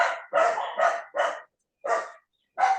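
A dog barks repeatedly, six sharp loud barks in an uneven rhythm with short pauses, close by and with no talking.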